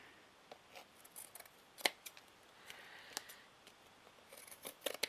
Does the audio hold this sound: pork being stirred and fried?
no